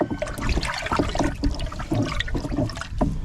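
Fertilizer being stirred into water in a drum on a farm, a continuous churning, sloshing swirl of water, loud and close, with no talking.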